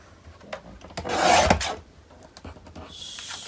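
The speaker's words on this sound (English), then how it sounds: "I will cut again 5 inch." Scissors cutting an A4 sheet of paper for a wedding mini album, a short rasping snip of about a second sounding close and clear, followed by fainter handling rustles and a thin high hiss.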